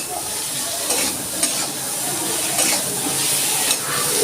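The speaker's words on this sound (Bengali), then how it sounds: "আলুটা আমি একটু ভেজে তুলে নিচ্ছি।" Small salted, turmeric-dusted potato pieces fry in hot oil with a steady sizzle while a utensil stirs them now and then, the scrapes rising briefly above the continuous crackle, close up.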